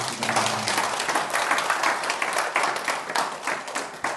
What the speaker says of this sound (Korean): 큰 박수로 스님을 환영합니다.